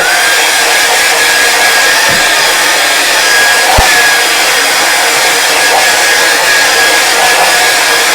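A hair dryer blows on a landscape painting of mountains, a loud steady whirring roar that holds unbroken throughout, with a couple of faint knocks and no talk.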